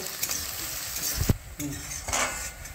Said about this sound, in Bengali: পেঁয়াজটাকে এবার আমি গোল্ডেন ব্রাউন করে ভেজে নেব।